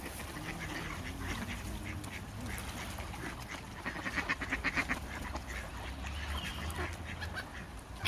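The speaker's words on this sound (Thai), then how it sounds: "มาขุนอาหารเป็ดพี่น้องจ้า" Ducks quack while being fed bread outdoors, in a few scattered calls that gather into a busier, louder flurry midway, over a soft background hiss.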